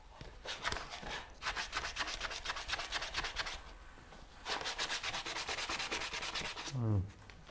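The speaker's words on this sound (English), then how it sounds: "now I'm just kind of sanding the edge of it, just to take the rasp marks out of it" Hand-sanding the edge of a wooden backsaw handle to smooth out rasp marks, with rapid rhythmic scratchy strokes in two close bursts separated by a brief pause, followed by a short low thump.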